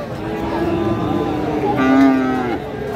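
A Friesian or crossbred bull calf at a cattle market gives a loud, drawn-out low moo, close by, over the murmur of a busy market.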